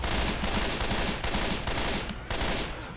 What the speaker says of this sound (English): Nothing better than shooting a scar in the morning.